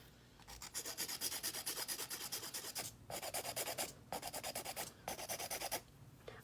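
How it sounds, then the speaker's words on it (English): A nail file rasps rapidly back and forth across the tips of long nails, close and crisp in quick rhythmic bursts of strokes separated by brief pauses, with no voice. "you're gonna go and hold your file straight 90 degrees to keep it really nice and precise."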